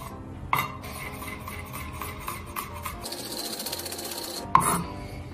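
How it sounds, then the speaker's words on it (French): A knife chops garlic on a board in a kitchen, with light irregular taps, a couple of sharper knocks and a brief metallic scrape, close and fairly quiet. "Alors, on va hacher l'ail."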